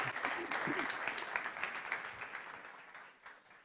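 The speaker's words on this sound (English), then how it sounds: "Come on, big applause, guys." Audience applause at a startup competition stage event, a broad wash of clapping that swells early and gradually fades over a few seconds, with faint voices mixed in beneath it.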